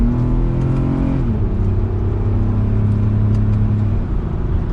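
A 2022 Lexus RX 350 AWD F Sport, its engine in Sport S Plus mode, accelerating with a loud, steady droning hum that shifts pitch partway through, then holds a constant whir under road noise.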